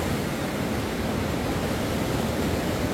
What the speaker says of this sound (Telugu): గాలి కొంచెం ఎక్కువగా ఉండటం వల్ల అలలు బాగా వస్తున్నాయి